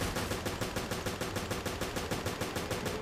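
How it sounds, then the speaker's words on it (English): Rapid, steady machine gun fire in the Resident Evil Revelations video game, with evenly spaced shots repeating without a break for the whole stretch and sitting loud in the mix. "Now I'm also just use my machine gun."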